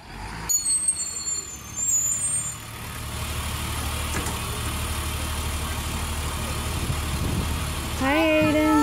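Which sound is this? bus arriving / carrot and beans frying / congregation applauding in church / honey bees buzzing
bus arriving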